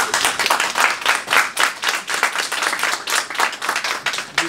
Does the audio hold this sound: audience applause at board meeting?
yes